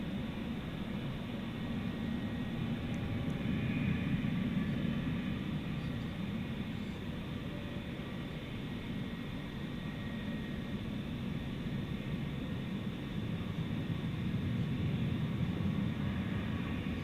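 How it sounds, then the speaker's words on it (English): An American Airlines Boeing 737-800 jet rolls at DFW Airport at night, a steady, distant roaring rumble of jet engines that holds at an even level with no voices. "737-800."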